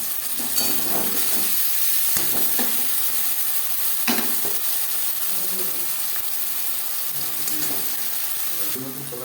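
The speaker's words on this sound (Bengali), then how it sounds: "এবার দিয়ে দেব ম্যারিনেট করে রাখা মাংস" Marinated chicken meat fries with onion and tomato in a pot for biryani, a loud continuous sizzle and hiss broken by repeated stirring scrapes and clanks.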